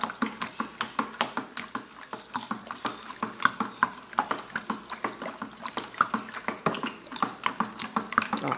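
A bar-soap mixture of vinegar dissolved in 90 ml of water is stirred by hand, making soft, regular wet swishing strokes at a quick, even pace, close and fairly quiet.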